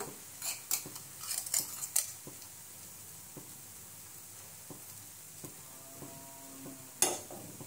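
A spoon mixes varai sheera, a barnyard-millet fasting sweet with cardamom powder and ghee, in a pan, making faint, scattered clinks and scrapes against the metal with quiet pauses and one sharper knock near the end.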